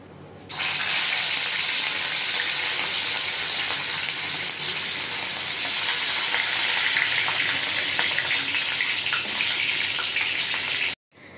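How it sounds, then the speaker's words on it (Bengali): Fish frying in hot oil in a wok gives a loud, steady, close sizzling hiss that starts abruptly and holds evenly for about ten seconds before cutting off. "কড়াতে তেল দিয়েছি, তেল গরম হয়ে গেছে। এবার আমি মাছগুলো ভেজে নেব।"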